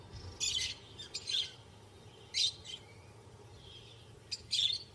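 Lovebirds shelter in the shade of desert rocks and give short, high chirping calls. Four or five separate bursts come over a quiet, low background, moderately near and faint overall.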